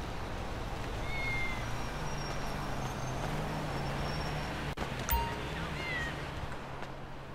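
A cat meows in the Grand Theft Auto V video game, a few short mews over a steady background of distant traffic noise, with a brief click near the end.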